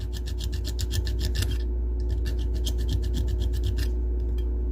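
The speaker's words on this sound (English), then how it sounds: "So I take one of these files, little handy dandy files, the flat side, take that burr off a little bit." A small flat hand file scrapes a burr off the metal of a Hot Wheels toy car, a close raspy back-and-forth rubbing in fast rhythmic strokes, pausing briefly midway before resuming.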